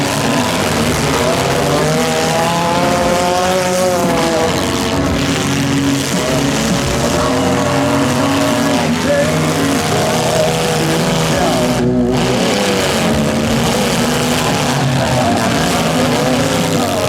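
Small stock mini cars in a demolition derby heat final, engines roaring continuously with shifting revs and tires spinning for traction, loud and close throughout, with an announcer's voice over the din.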